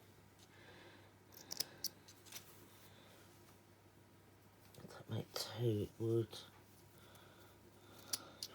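Soft, close snips of scissors cut through fabric in a few short bursts, with a quiet voice murmuring in between.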